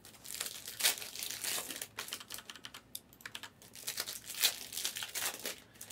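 Panini Donruss Optic basketball card pack wrappers being torn open by hand: close, continuous crinkling and crackling foil with sharp rips and rustles in quick irregular bursts, no talking.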